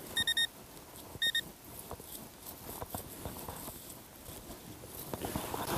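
A Garrett AT Pro metal detector chirps two quick bursts of high, bright tones near the start during a spring dig, followed by soft rustling and footsteps in the background.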